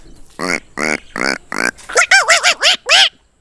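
A voice mimics a Himachal bird's alarm call, four harsh rasping squawks followed by a rapid run of five higher, wavering cries, loud and close before abrupt silence.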